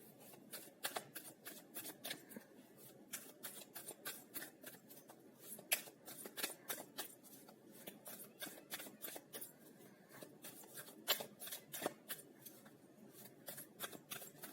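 Tarot cards are shuffled and flicked in quick, crisp bursts, a soft papery rustle repeating steadily and close, with no voices.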